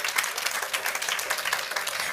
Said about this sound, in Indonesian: Boleh saya dengar tepuk tangannya yang paling meriah buat Yesus Tuhan kita?